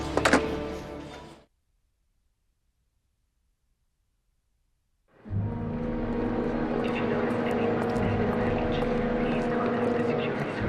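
A helicopter in the video game Heavy Rain gives a loud, steady rotor and engine roar that cuts out after a moment of noise, falls silent for several seconds, then returns and holds.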